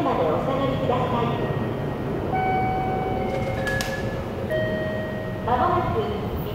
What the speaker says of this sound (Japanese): まもなく1番線に中部国際空港行きの電車が参ります。